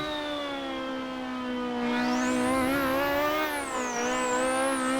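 A Zakspeed Capri Group 5 race car in the Assetto Corsa racing game howls under hard acceleration, the engine note rising and falling through gear changes in one continuous, loud, close drone.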